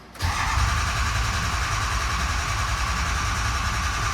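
A truck engine cranks and fires up abruptly, then settles into a steady, loud, rumbling idle close by, with no one talking.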